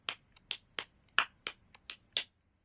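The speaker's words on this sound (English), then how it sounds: "If you just clap the accent of the two and the three" Hand claps played alone as a demonstration of a five-beat rhythm: eight crisp, close claps in an uneven, lilting pattern, with some hits noticeably louder as accents.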